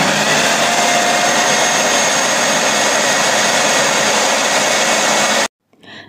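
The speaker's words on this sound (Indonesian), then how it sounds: "ini aku mau ngeblender dulu kelapa yang tadi sudah digongseng" An electric blender grinds toasted coconut for a rendang spice paste, a loud steady whirring roar close by that runs several seconds before cutting off abruptly.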